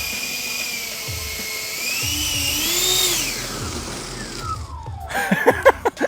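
Radio-controlled model Gulfstream G650 jet with its engines running up loud and whining, the pitch climbing then falling as it spools down, with sharp clicking pulses at the end.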